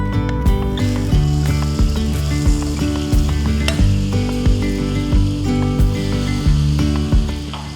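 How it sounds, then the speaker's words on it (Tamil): Butter sizzles loudly in a hot pan for a white sauce pasta, a dense crackling hiss marked by rhythmic scraping and clicking of a spatula against the pan, with no talking. "பேன் சூடானதும் நம்ம எடுத்து வச்சுருக்கிற வெண்ணெயை இதில் சேர்த்துக்கலாம்"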